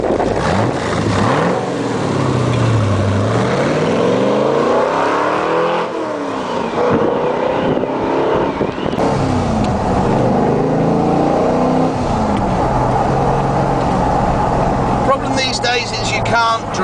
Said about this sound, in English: Powered by a 350 Ford engine.